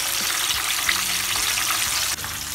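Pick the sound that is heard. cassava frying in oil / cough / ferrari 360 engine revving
cassava frying in oil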